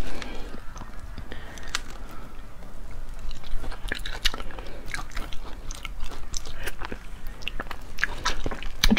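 Close, steady chewing and biting of overcooked food during an eating show, with wet crunchy mouth sounds and smacks repeating throughout, and faint talk underneath.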